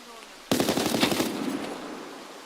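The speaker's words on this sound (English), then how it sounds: "immediately already burned through like 12 rounds right there" Rapid automatic gunfire from Escape From Tarkov erupts suddenly and rattles off as a dense, loud burst of about a dozen rounds, with a ringing tail after it fades.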